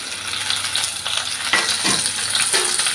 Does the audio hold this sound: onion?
yes